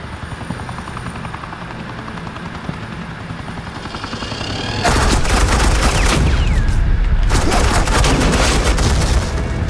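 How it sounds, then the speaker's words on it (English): Suppressing fire in the Batman: The Enemy Within video game: a steady helicopter-like drone gives way about halfway through to loud, continuous bursts of rapid automatic gunfire that fill the rest of the scene. "suppressing fire."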